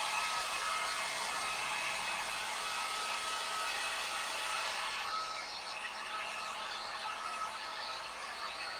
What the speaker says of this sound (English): I am going to take my heat gun to this and just dry it